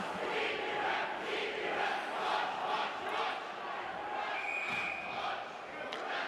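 College hockey arena crowd at an RIT versus Canisius game cheering, a broad roaring wash of voices filling the rink, steady and fairly distant, with a whistle-like tone cutting through briefly.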